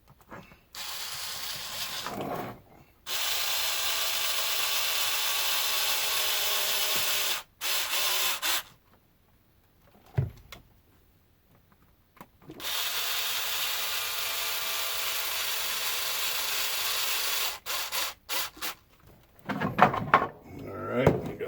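A power tool whirs in sustained bursts as bolts are driven snug on an Arrma Felony 6S RC car's rear differential, with several runs separated by pauses and light clicks of handling.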